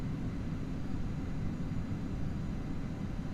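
A Bombardier Learjet 45 in a flight simulator game gives off a steady, low, broad engine roar with a faint hiss above it, heard from inside at a constant level with no clear rise.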